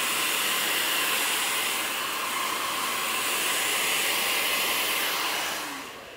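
A hair dryer blows steadily and close while hair is being styled into a textured pompadour, a continuous airy roar that fades out at the end.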